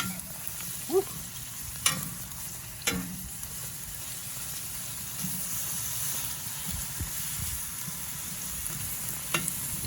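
Apples and onions cook in butter on a Big Green Egg, a soft steady sizzle running throughout with a few louder stirring scrapes and clinks near the start and end.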